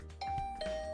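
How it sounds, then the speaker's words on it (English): A doorbell rings in The 100 Line Last Defence Academy video game, a clear two-note electronic ding-dong chime that sounds loud and close, with a soft hum of game background music underneath. "After checking the nameplate, I rang the bell."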